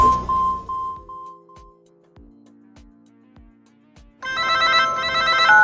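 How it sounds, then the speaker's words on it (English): Telephone ringing for an incoming call, a few sharp electronic rings at the start, then a series of quieter repeated ticking tones, then a loud, bright ring tone burst near the end, with no voices. "I'm calling you on my new Wiz wireless camera phone"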